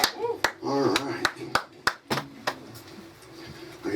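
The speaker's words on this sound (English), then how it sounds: "I got one person to clap." A single audience member claps a few sharp, isolated times at a close-up magic show, the claps loud and spaced apart against the quiet room while people talk.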